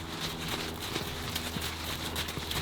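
Horses walk with hooves clip-clopping in an irregular, close rhythm over a steady ambient background noise.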